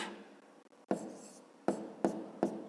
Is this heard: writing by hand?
yes